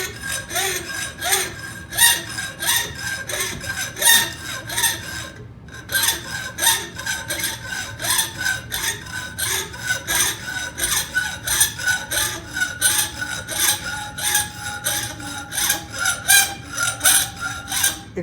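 A metal saw rasps through a metal workpiece in a fast, steady rhythm of strokes, loud and close. One brief pause breaks the cutting, and the tone drops gradually as the cut nears its end.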